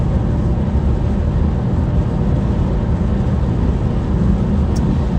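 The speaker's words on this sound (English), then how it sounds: "it messes up the audio because it's kind of too loud, the car and stuff" Car engine and road noise while driving, a loud unbroken low rumble that stays steady throughout with no voices over it.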